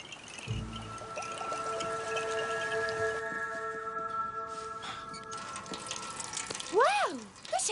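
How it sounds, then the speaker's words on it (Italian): A kitchen faucet in an animated scene runs with a constant pouring rush of water, steady and fairly close, while soft tones and a brief voice sit faintly beneath it. "Questo rubinetto funziona benissimo."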